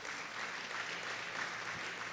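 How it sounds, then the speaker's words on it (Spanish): Strong applause from a church congregation during a Spanish-language sermon, a steady, dense wash of clapping that holds at even loudness for the whole stretch with no voices above it. "Denle un fuerte aplauso a nuestro Dios."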